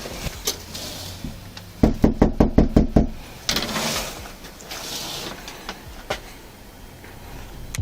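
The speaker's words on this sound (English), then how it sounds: "After knocking on the door and announcing themselves multiple times" Police officers pound on a house door in a quick burst of about seven loud, evenly spaced knocks, followed by quieter scattered taps and shuffling.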